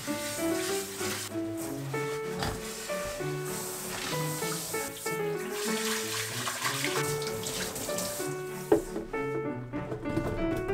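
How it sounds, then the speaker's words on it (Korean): Running tap water rinses a blender cup in a steady, close, continuous splashing stream, with background music playing underneath throughout. "믹서컵을 물로 헹구고 물 800ml와 주방세제를 두세 방울 넣어 자동 세척 기능으로 놓고 세척을 하면"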